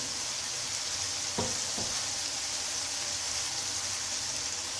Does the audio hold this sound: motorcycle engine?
no